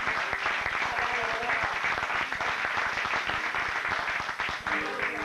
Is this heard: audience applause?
yes